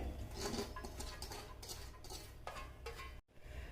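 Soaked, washed lentils go into a pressure cooker while preparing a Kerala spinach and dal curry, a close run of soft clattering, scraping and stirring noises with a brief pause near the end, no talk.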